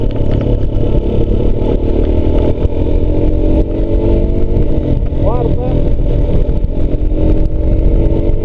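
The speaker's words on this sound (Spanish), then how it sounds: "primera, segunda, ya se escucha más desahogado el motor." A motorcycle pulling away and shifting up through the gears, its mid-pitched engine loud and close. The engine hums steadily with a brief rising rev partway through.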